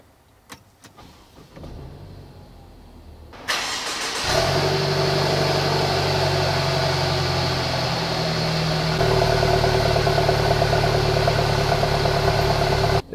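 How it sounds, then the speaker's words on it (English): A Mercedes C200 2-litre engine cranks and catches on a cold start, flaring up loudly, then settles into a steady, rumbling idle that continues close by. "let's start the engine and just listen to the sound of this cold start"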